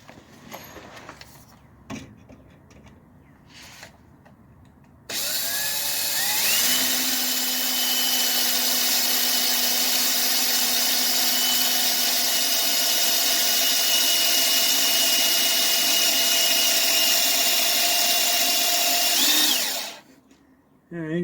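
A power drill bores a pilot hole into metal on a 1966 Dodge Dart GT under restoration, a loud steady whine held for about fifteen seconds before winding down, with faint handling noises before it starts.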